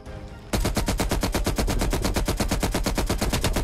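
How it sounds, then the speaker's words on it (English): M60 machine gun fire in the Black Ops Cold War campaign: after a half-second lead-in, a loud, sustained automatic burst of rapid, evenly spaced shots runs steadily to the end, close and continuous with no talk over it. "Recoil is pretty crazy with this weapon. Not really, actually, it's pretty manageable for an M60."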